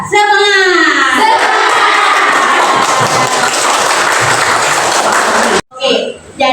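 A school class clapping hands in a chant routine, with a teacher's call heard first, followed by a loud, dense burst of many children clapping together that ends abruptly, then a brief voice.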